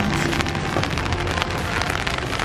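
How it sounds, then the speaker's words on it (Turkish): Rain falls steadily on a university campus, a dense continuous hiss of drops striking surfaces, loud and close with no talk. "Ama yağmur yağıyor, bir saniye."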